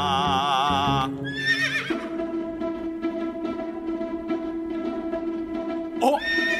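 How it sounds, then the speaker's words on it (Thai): A frightened little horse gives a loud, close whinny with a quavering, wavering call, followed by a steady clip-clop of hooves and a second short neigh at the end, with no talking. "นั่นเจ้าม้าน้อยตื่นกลัวหนีอะไรมา"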